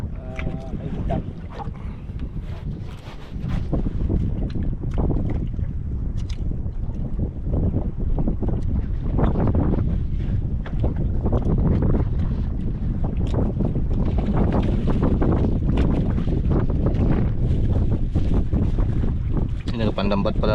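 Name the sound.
boat on the water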